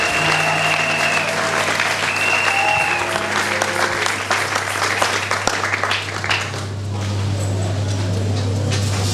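A congregation at an evening church service applauds, a dense, loud wash of clapping from many hands. Organ or keyboard tones sustain underneath, and the clapping thins toward the end.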